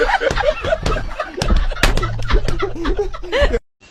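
A chicken clucks in loud, close bursts of short choppy calls, mixed with slaps and scuffling, and the sound cuts off sharply at the end.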